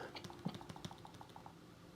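Typing on a Microsoft Surface touch-sensitive keyboard, a quick run of faint, soft tapping clicks in an irregular rhythm, close by and fading toward the end.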